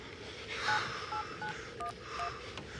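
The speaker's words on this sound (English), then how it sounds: "Calling Tony again." A telephone is dialed, sending a quick run of about six faint touch-tone beeps at an uneven pace with a little background hiss and no one speaking.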